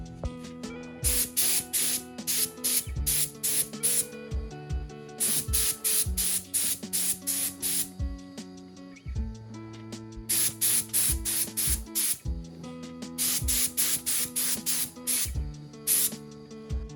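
A paint spray gun hisses in repeated bursts while coating small car parts for a Nissan Silvia in a home garage, short and long blasts alternating with brief pauses, loud and close with no talking.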